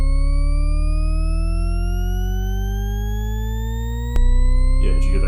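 A pure sine-tone Shepard sweep glides steadily upward in stacked octaves, then one sharp click sounds as the highest layer drops out and a louder low tone takes over, with no voices.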